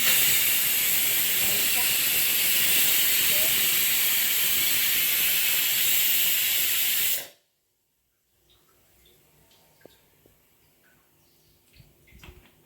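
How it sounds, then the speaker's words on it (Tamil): Kerala avial, mixed vegetables with curd and curry leaves, simmers in a pan with a loud, steady, close hiss for about seven seconds. The hiss then cuts off abruptly, leaving faint scattered sounds. "கொதி வருதுங்களா, தயிர் ஊற்றி அவ்வளோதான், ஆஃப் பண்ணிடலாம்."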